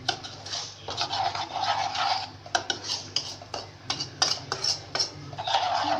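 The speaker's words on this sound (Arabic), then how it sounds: "نقلب كويس جدا" A spoon scrapes and clinks against a bowl while stirring a fish stuffing mixture with vinegar just added, in uneven bursts of rubbing and tapping close up.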